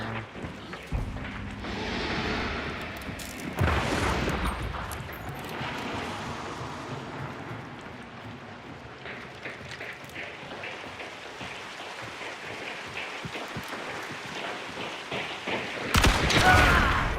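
Gunfire from weapons shooting zombies in a video game, with loud, dense bursts of rapid shots that continue steadily throughout and swell again near the end.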